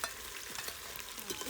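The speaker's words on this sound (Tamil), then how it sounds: "இப்போ இஞ்சி பூண்டு பேஸ்ட்டு சேர்த்துக்கலாம்." Ginger garlic paste fries and is stirred in a pan while mushroom biryani is being made, giving a steady bright sizzle with soft scraping strokes of the spoon, close and alone with no voices.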